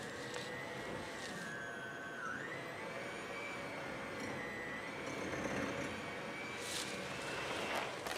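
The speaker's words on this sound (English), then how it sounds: "she's using her hand mixer to mix together the butter and the sugars" An electric hand mixer whirs steadily while beating butter and sugars together, a close, continuous motor whine with slight pitch dips as the load shifts, with no voices.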